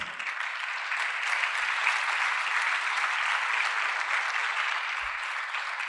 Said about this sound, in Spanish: entonces dale un aplauso al Señor